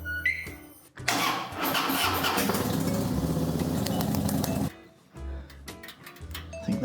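A Harley Dyna motorcycle cranks and fires up after an oil change, catching with a sharp burst into a loud, rumbling idle that runs for several seconds and then cuts off, with metallic clinks before and after.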